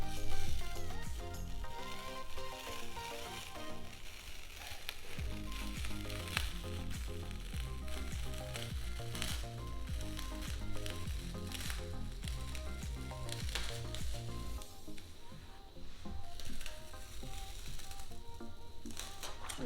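Cricut glitter vinyl carrier sheet being peeled off a freshly pressed design, a dense continuous crackling and tearing that swells and fades over about twenty seconds, no talking.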